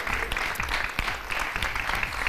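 Studio audience applause on a Romanian celebrity game show, a short burst of mixed clapping with some louder individual claps standing out.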